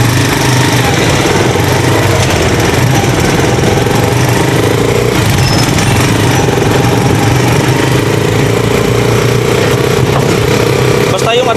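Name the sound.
Rusi Chariot 175 trike engine running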